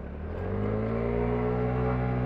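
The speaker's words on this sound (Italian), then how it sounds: "Senti che rumore di accelerazione furibonda." KTM Super Duke 1290 R motorcycle engine accelerating hard, a loud, close, continuous roar whose pitch climbs steadily through the revs with no talk over it.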